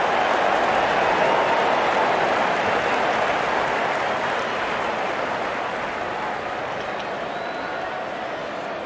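Steady crowd applause from a cricket video game match between India and Pakistan, a dense hissing roar of clapping that holds for several seconds and slowly eases, with no clear talk over it.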